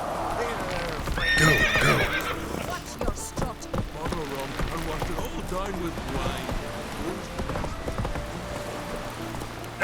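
Roach, a horse in The Witcher 3, clip-clops with a quick run of hooves and a whinny near the start, followed by steady hoofbeats under speech from game characters.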